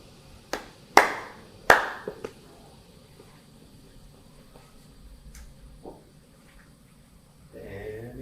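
A few sharp hand claps ring out, two or three loud isolated smacks close together, then quiet room tone with faint voices at the end.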